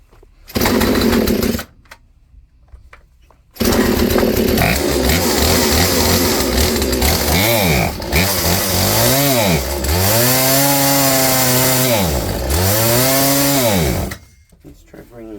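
A chainsaw fitted with a new carburetor and just adjusted runs loudly, cuts out, then restarts and revs up and down in repeated swelling whines before shutting off.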